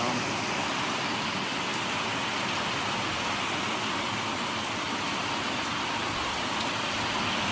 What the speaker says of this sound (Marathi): पाऊस वगैरे काय राम.